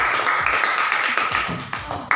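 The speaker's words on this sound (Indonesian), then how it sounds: "kita berikan tepuk tangan untuk kelompok" Students in a classroom clap for a group, a busy patter of many hands that stays steady before thinning out near the end, with a faint voice underneath.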